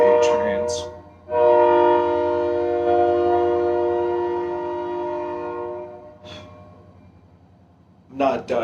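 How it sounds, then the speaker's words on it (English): A train passing nearby gives one long, loud, sustained horn blast lasting several seconds, with short vocal sounds just before and after it. "The fucking train."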